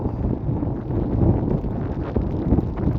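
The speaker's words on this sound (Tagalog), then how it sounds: "Super lakas po ng hangin." Strong wind near Glenmore Reservoir during a weather warning buffets the microphone in a steady, loud rumble with gusty swells throughout, and no voices.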